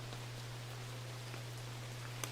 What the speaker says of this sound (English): Season weather, it's rain, boss.